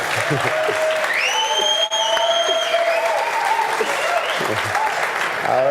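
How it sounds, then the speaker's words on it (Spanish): An audience at a light painting event claps loudly and steadily for the whole stretch. A voice speaks over the applause. "Con ovación del público incluso, muy bien."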